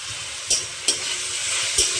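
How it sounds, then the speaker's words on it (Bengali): Plenty of onions frying in a pan for egg fried rice, a bright steady sizzle with three sharp spatula scrapes or taps, close and alone without any voice. "পেঁয়াজটা ভালো করে লাল করে ভেজে দেবো"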